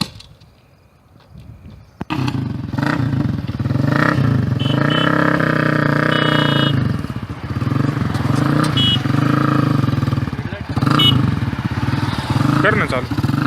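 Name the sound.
custom cafe racer motorcycle engine revving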